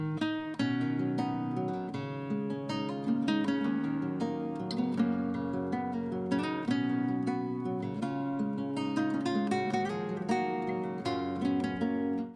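Sonic's victory jingle from a video game, rearranged in the style of the acoustic version of His World: a steady, full melodic passage of bright tones over a sustained low bass line, continuous and clear with no talking.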